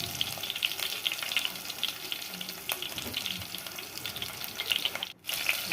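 Onions, fenugreek seeds and cumin fry in oil in a pot for fish curry, making a continuous close sizzle with scattered crackles and a brief dip near the end.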